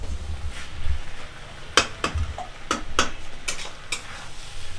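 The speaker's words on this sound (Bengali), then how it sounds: "রান্না হলো ভাজা ভাজা" Cauliflower fries in a pan during morning cooking, a steady sizzle broken by several sharp scraping stirs and utensil clinks close by, with no voices.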